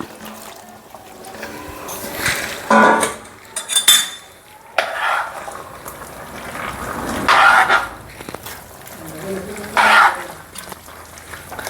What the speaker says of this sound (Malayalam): നമുക്കിനി കപ്പ കൂടി ഇതിൻ്റെ അകത്തേക്ക്